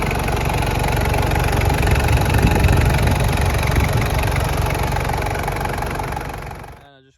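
A 1997 Toyota Land Cruiser Prado with the 3.0-litre 1KZ-TE diesel idles with a loud, steady, close-up clatter and rumble, then cuts off near the end, with a man's speech in the background.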